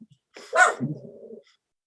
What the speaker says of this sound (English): is that your dog I can hear in the background?